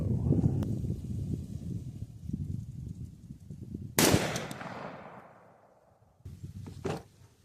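.308 rifle shot from a Savage 110 or Ruger SFAR at an outdoor shooting range: one sharp, loud crack at about four seconds, followed by a long rumbling echo that fades over two seconds, with a lesser burst near the end over rustling background noise.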